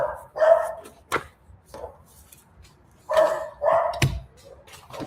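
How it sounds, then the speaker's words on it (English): Dogs bark repeatedly nearby in uneven bursts, sharp individual barks separated by brief quiet gaps, with a faint thump among them and no talking. "We got dogs barking at me."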